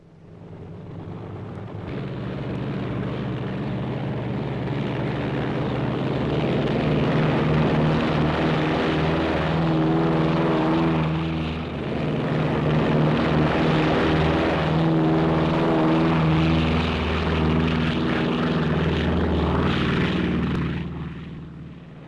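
Propeller engines of a B-29 Superfortress bomber drone loud and steady, a deep throbbing roar that swells in after a quiet start, holds for about twenty seconds and then cuts off, with no talk.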